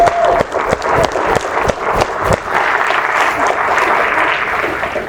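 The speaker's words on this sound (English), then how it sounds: "Let's give him a round of applause." An audience at a multiple sclerosis roundtable gives a warm round of applause, with a burst of claps that settles into steady, fairly close clapping and crowd noise.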